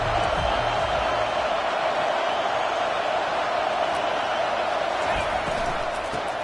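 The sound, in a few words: home crowd cheering at a football game on 3rd down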